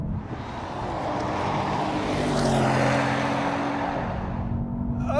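BMW M760 and Mercedes-Benz S63 AMG in a rolling drag race, a loud sustained engine roar that swells and rises in pitch as the cars accelerate together, with no talk over it.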